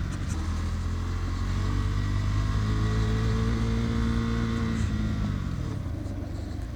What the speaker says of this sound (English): There's some rear tire lockup action.